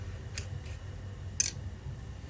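Scissors snip a few times, probably through kachu (taro) leaves in a home kitchen. The cuts are short, crisp and close, with one sharper snip standing out.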